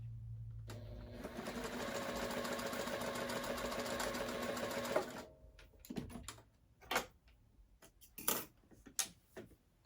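A sewing machine stitching quilt squares with a quarter-inch seam, running steadily for several seconds, then stopping, followed by scattered handling clicks and thumps.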